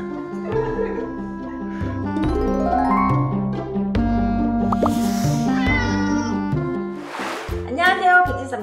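Several cats meow repeatedly and insistently nearby, overlapping calls rising over background music and a person speaking, as if impatient before a domino game.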